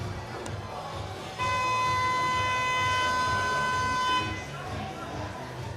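Rink hockey arena siren at a Serie A1 match between Why Sport Valdagno and Hockey Sarzana, blaring a steady, harmonically rich tone for about three seconds over crowd and arena murmur before cutting off.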